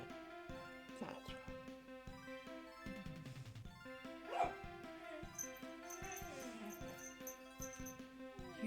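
Dogs bark, yip and whimper faintly at a distance, their calls blending into an ongoing soft, tonal background.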